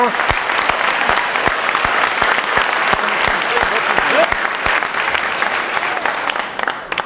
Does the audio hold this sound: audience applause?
yes